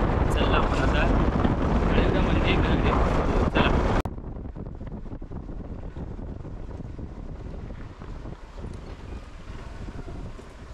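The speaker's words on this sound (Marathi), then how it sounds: "बघू शकता तुम्ही धबधबा बघा किती वरून पडता तो राजवाडीचो" The Rautwadi waterfall near Kolhapur makes a broad, continuous rushing roar mixed with wind buffeting. It is loud for the first few seconds, then drops to a softer, steady wash.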